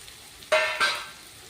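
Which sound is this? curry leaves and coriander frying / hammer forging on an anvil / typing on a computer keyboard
curry leaves and coriander frying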